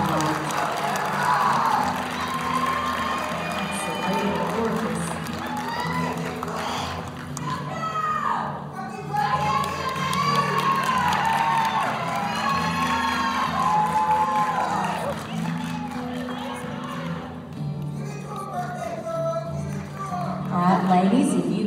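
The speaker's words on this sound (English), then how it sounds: "give them a round of applause, encourage them" Audience at a 2021 Stephens County High School pageant cheering, whooping and applauding continuously, with a sustained crowd roar and children's shouts while an announcer talks over it.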